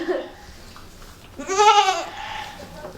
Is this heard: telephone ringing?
no